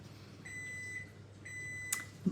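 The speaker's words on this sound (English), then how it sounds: "I get it, microwave." Two long, steady electronic beeps from a microwave oven, each about half a second, sound one after another with a gap, followed by a couple of brief clicks; no one speaks.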